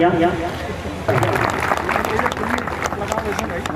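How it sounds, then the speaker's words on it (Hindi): At an annual community gathering in Salhewada, Balaghat, a crowd bursts into loud, continuous clapping to welcome a prize winner, beginning with a voice over a sound system and then running on steadily with some crowd noise. "जोरदार ताली बजाकर स्वागत कीजिएगा आप सभी स्वजाति भाई बहनों"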